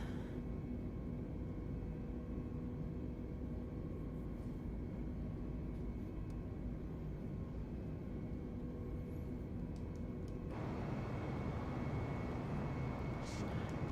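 An Airbus A320 jet in Microsoft Flight Simulator 2020 spooling up at takeoff/go-around thrust on a short Hawaiian island runway, a steady loud engine roar with a constant hum that shifts brighter partway through.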